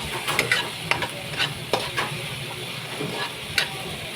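Tomatoes frying and being stirred in a pan for a sardine and noodle dish, a steady close sizzle broken by repeated scraping stirs and light utensil knocks.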